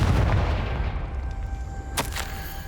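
Confringo fire spell explosion in Hogwarts Legacy, a loud burst at the start that fades into lingering rumble, with a sharp crack near the two-second mark over continuous game sound.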